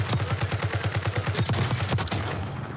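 Rapid automatic gunfire from the video game Call of Duty Warzone, a fast, evenly spaced burst of loud close shots lasting about two seconds before cutting off into a faint tail.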